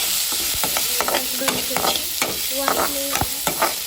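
Tomatoes tipped into a pan of frying onions with cumin and mustard seeds, giving a close, steady sizzle broken by several sharp stirring and scraping strokes.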